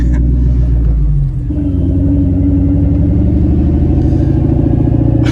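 A loud, deep exhaust rumble from a Mustang Bullitt with new Magnapack exhaust close by, steady and throaty with a shift in pitch partway through.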